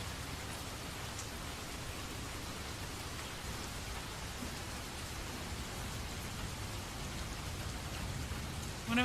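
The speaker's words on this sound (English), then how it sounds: "That means only the rain's gonna be in the VOD, good." Steady rain plays continuously as a stream background, a dense, even hiss of falling drops with no breaks and a slight swell right at the end.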